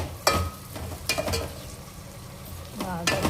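Mint leaves and green chilies frying in a pan, with a steady close sizzle and a few sharp scrapes and clatters as they are stirred.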